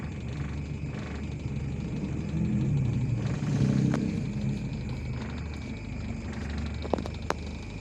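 An old Suzuki Katana motorcycle engine, started manually, runs with a low, steady rumble that swells slightly midway. A few faint clicks appear near the end.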